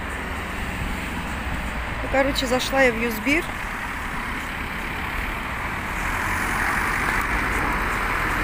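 Street traffic at a road crossing in Mersin, a steady broad engine roar of passing vehicles that swells slightly toward the end, with someone talking briefly over it.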